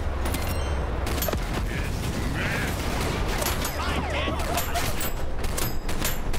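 Dense, continuous blasts and crackling bursts from explosions in a GTA-style video game, loud and relentless across the whole stretch with sharp gunfire-like transients and no talking.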